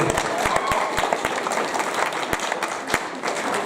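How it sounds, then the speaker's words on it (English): Applause fills a school hall during a senior assembly at Porirua College, a dense wash of clapping with a few sharp, louder claps close by, from a crowd of students; faint voices mix in underneath. "Can we give him a round of applause?"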